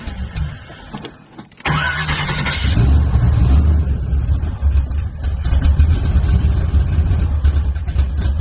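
A car engine cold-starting on a cool day. After a brief crank it catches at once and settles into a loud, steady, rumbling idle close by, with no talking.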